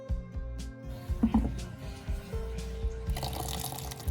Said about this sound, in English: Blend well.